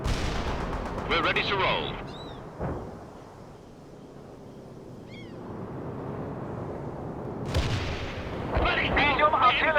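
Medium artillery fire in the World in Conflict game, with heavy booming blasts and rumbling gunfire throughout, a short voice line spoken between the barrages.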